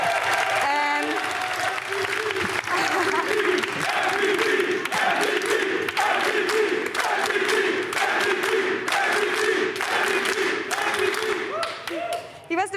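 An esports arena crowd at the 2022 League of Legends LEC Spring Finals cheers and applauds loudly and continuously, with dense clapping, whoops and shouting voices throughout.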